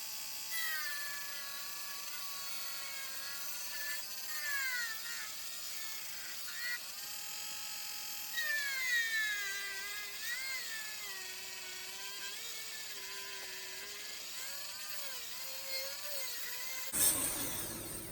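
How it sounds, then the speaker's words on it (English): A small grinding tool grinds the seal on a Miele vacuum powerhead, giving a faint, steady high-pitched whine whose pitch wavers up and down as the load changes, with a brief clatter near the end. "I got my grinding tool here, so I'm just going to grind the seal."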